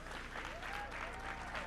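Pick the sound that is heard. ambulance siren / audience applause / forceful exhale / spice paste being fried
audience applause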